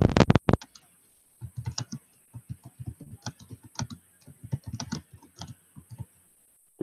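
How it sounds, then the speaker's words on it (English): Heavy, fast typing on a computer keyboard, with clustered bursts of sharp key clicks and short pauses between them. The keys are close by and loud, and no voices are heard. "He's pounding on that keyboard."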